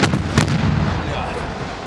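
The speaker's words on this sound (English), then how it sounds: "I could never imagine I'd come under shelling from tanks." A pair of heavy booms from tank shelling and artillery fire on a front line near Debaltseve, two sharp blasts close together followed by a rumbling decay, loud and near.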